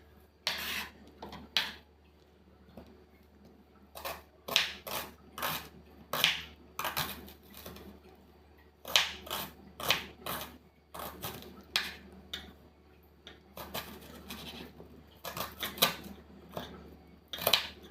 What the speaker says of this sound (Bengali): এই পেঁয়াজটাও আমি এবার কেটে নিব।